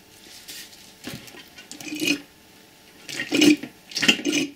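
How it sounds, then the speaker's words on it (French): A small hand pump draws power steering fluid out of a car's reservoir, giving intermittent wet squelching and sucking strokes, close and fairly quiet, in uneven bursts with pauses between. "je prends ma petite pompe, je vais sortir le plus de liquide de direction assistée que je peux"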